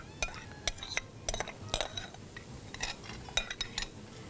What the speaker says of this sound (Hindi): यहाँ पर मैं डाल देती हूँ 2 से 3 अदद दरमियाने साइज़ की प्याज, जिसे कि चॉप किया गया है